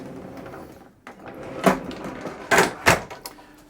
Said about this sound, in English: the door on the bathroom is a sliding door. Little loud.